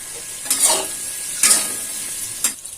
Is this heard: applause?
no